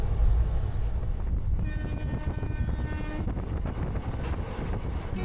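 A passenger train pulls away from a station in West Bengal on a night departure to Purulia, a steady loud rumble of wagons and rail noise running the whole time, with a few faint horn-like tones.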